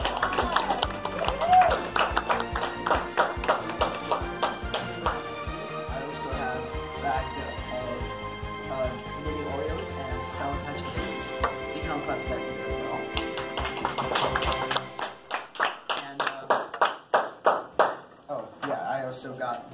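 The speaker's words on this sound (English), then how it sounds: "You can all clap for this." After a stretch of talking with sound in the background, a few people clap a short run of hand claps that are distinct and close, celebrating a child's school reflection award.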